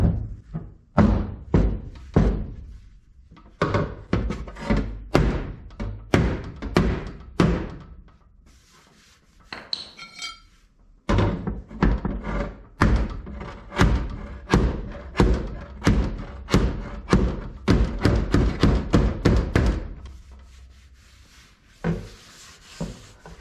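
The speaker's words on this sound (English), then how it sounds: "All I'm in here doing is just banging on it with the handle of my hammer." Repeated hollow metallic bangs in quick bursts, a hammer handle striking metal over and over, with brief pauses between runs of hits.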